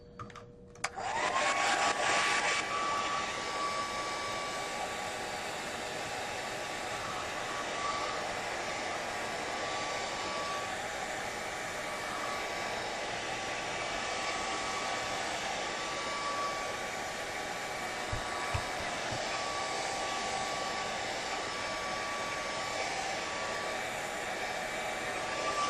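Hair dryer blowing on a Gelli plate print, a loud, continuous whirring rush that starts abruptly and runs steadily with a faint whine, close by, with a couple of small knocks partway through and no talking.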